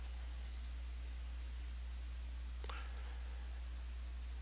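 A few soft computer mouse clicks on a dialog's close button, one clearer click near the middle, over a steady quiet hiss.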